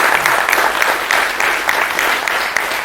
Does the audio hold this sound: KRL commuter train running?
no